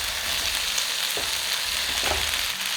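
A snack tossed into a hot tempering of asafoetida and curry leaves sizzles and fries steadily, with a couple of soft stirring scrapes. There is no talking.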